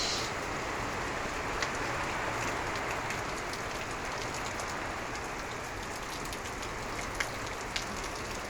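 Steady, dense rain pours down outdoors, a continuous close hiss with scattered sharper drop taps and no voices.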